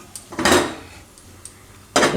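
A kadhai set down and shifted on a gas stove, two loud metallic clanks with a ring, separated by quieter scrapes and taps.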